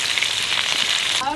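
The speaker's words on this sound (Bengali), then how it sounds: "মাছ ভাজা তেলের মধ্যে আলু দিয়ে দিচ্ছি" Potatoes drop into oil already used for frying fish and set off a dense, even sizzle that holds steady for a moment before easing off, with faint talk underneath.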